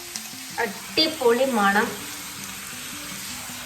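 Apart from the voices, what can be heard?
onions and green chilli sautéing while being stirred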